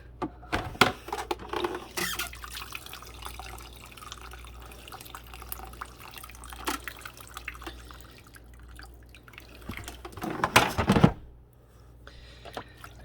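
Water drips and splashes as the lid of a Cascade dishwasher is lifted, with scattered irregular drops, a louder burst of splashing and clatter near the end, and a low steady hum underneath.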